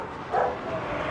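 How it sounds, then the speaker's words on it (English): A single short dog bark, fairly faint and off in the distance, rings out on a quiet morning street in Malinalco, Mexico. "Lots of dogs this morning."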